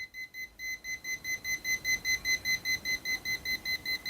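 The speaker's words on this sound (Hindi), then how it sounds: "ये मीटर जो हल्की फुल्की बीप कर रहा है" UNI-T UT61E+ digital multimeter beeping near a live wire, a steady run of about twenty quick high electronic pulses, faint but clear and evenly spaced, with no talk.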